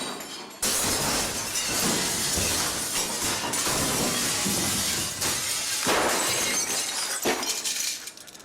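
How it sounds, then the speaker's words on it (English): Glass shatters like a dropped glass, a loud crashing break followed by seconds of tinkling, scattering shards close by. "at first I thought she dropped a glass"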